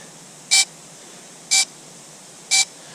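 Three short electronic beeps sound at an even one-second pace, loud and clear against quiet background hiss.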